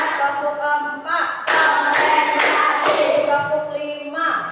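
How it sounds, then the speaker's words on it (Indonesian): A school class clapping the rhythmic tepuk routine, bursts of several quick sharp claps in counted groups, close and loud, with a teacher's voice speaking between them. "mari kita lakukan tepuk 5 terlebih dahulu"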